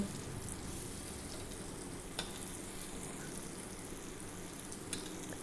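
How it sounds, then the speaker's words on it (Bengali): Elephant foot yam frying in oil over medium heat, a soft continuous sizzle with fine crackling and a couple of brief clinks, close and fairly quiet. "যেভাবেই হোক ভাজা ভাজা করতে হবে।"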